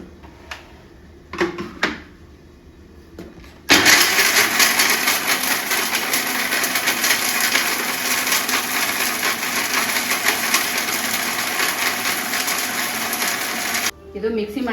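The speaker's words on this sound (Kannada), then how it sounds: "ಇದು ಮಿಕ್ಸಿ ಮಾಡ್ಕೊಂಡಿದ್ದೀನಿ." A kitchen mixer grinder whirs loudly as it grinds coconut, tomato and ginger for chicken curry, a sustained motor roar lasting about ten seconds, preceded by a few clunks of the jar being set and followed by a sudden stop.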